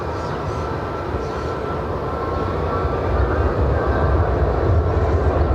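A UPS cargo plane flies overhead toward Louisville, a steady broad roar of jet engines that builds slightly louder partway through, with no talking.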